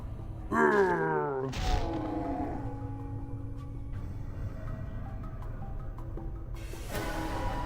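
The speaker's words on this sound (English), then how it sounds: "it definitely is a Doom death sound" In the Planescape Torment video game, a creature gives a Doom-like death cry, a groaning roar that slides downward and ends in a thud, then a low rumbling game ambience continues.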